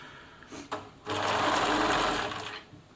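A Bernina Nova 900 electronic sewing machine stitches in a short burst of about a second and a half, with a steady close whirring hum and a faint click just before it starts.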